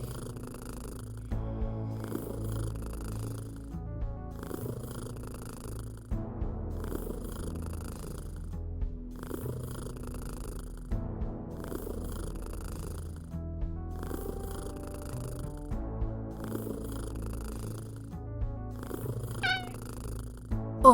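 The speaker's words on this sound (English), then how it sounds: "Should we just sit here and bask in the sounds of Mildred purring for a bit" A cat purring in the video game Kathy Rain 2: a soft, steady purr that rises and falls in an even rhythm of breaths and runs alone for about twenty seconds.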